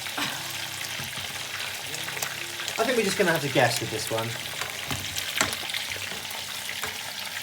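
A fish fillet fries in boiling fat with a steady close sizzle, broken by bubbling and spooning sounds as oil is basted over, while someone talks throughout.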